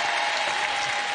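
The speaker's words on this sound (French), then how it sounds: "Voici donc pour les trompettes qu'on peut applaudir très très fort" A theatre audience at a French television game show claps loudly and steadily, a dense continuous burst of applause filling the whole moment.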